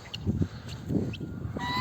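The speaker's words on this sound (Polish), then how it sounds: "Tutaj gęsi" Geese on a farm honking, a few short nasal calls in quick succession, fairly close with faint background noise and no speech.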